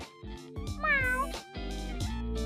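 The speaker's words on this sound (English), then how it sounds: "She is a tortoise-shell cat." A tortoiseshell cat meows several times in a row, close and clear, with drawn-out, rising and falling cries separated by short pauses.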